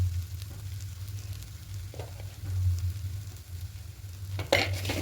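Pea kachori filling stirred in a hot pan, with a low steady sizzle and occasional soft scraping strokes of the spoon, close and quiet, the sound briefly louder at the end.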